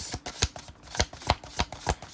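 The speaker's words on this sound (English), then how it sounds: "So, I'm going to shuffle" Tarot or oracle cards are shuffled close up for a psychic reading, in quick repeated riffling bursts with crisp slaps about every quarter second, with no talking.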